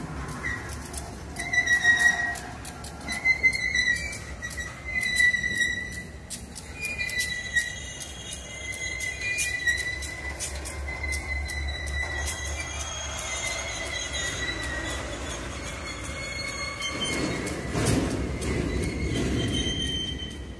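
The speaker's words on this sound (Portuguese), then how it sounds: "Tá aí, dupla de AC44 e manobrando dois vagões aí, HTT da Rumo." Pair of AC44 diesel locomotives shunting two Rumo HTT wagons at the port of Santos, with a steady low rumble of rolling stock under repeated high, piercing wheel squeals that come and go, fairly close, with birds chirping in the background.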